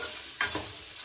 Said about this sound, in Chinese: 焗又炒南瓜